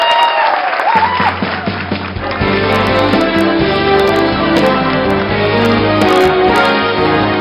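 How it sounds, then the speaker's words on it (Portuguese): A studio audience on a Portuguese TV talk show applauds loudly, and within a second or two music starts and carries on over the continuing clapping. "Um aplauso grande!"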